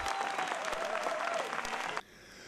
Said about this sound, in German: Am Ende gab es wieder begeisterten Applaus für die Darsteller des NN-Theaters